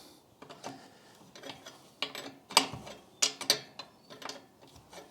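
A wrench ratchets in quick clicking bursts while snugging the header bolts on a Honda CBR/VFR 800 hybrid build with Lextek headers, close and fairly quiet with metallic ticks and no voices.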